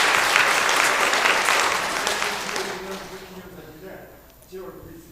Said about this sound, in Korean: 우리 박수로 한번 하겠습니다.